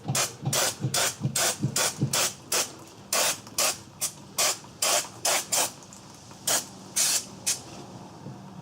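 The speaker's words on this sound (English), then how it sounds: "let's take the brake clean. Now let's clean this all up good" Brake cleaner aerosol sprayed over the rear drum brake parts of a Ford Escape: a string of short, sharp hissing bursts, roughly a dozen, in an uneven rhythm, loud and close with no talk.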